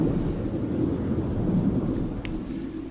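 Stormy weather on an alien planet in No Man's Sky, a deep continuous rumble of thunder and wind that swells and holds, with a couple of faint brief clicks on top.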